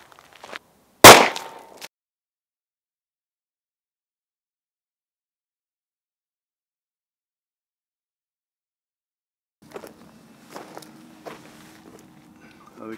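A single sharp gunshot with a target load strikes a Level IIIA backpack armor plate outdoors, a loud isolated crack with a short tail, followed by long silence and then faint scattered clicks and handling noises.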